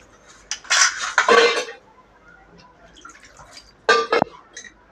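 Water tips from a metal vessel over an idol's feet during a small home puja, with two short bursts of splashing and metallic clinks separated by a quiet pause.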